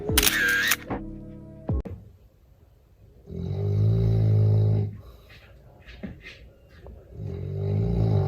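A sleeper in a room in Dresden snores in long, low, rumbling breaths, close and steady, with two drawn-out snores separated by a quieter pause and a few faint clicks, no talking.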